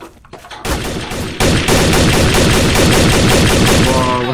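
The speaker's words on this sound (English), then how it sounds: "What's all that shooting?" Rapid automatic gunfire in the video game Trouble in Terrorist Town, loud and sustained bursts of shots that build after a brief quieter start.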